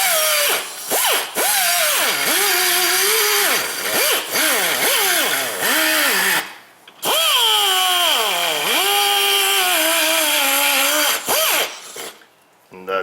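A rotary file grinds corrosion off the aluminium wheel hub of a Toyota Prius during front wheel bearing work, a loud, close whine that rises and falls in pitch through repeated bursts with brief pauses.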